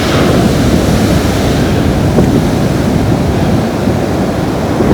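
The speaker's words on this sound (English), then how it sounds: "Man, the water is freezing. I keep getting like swallowed whole by these waves." Ocean waves surge and break continuously on a beach, a loud, dense wash of surf with wind buffeting the microphone throughout and no voices.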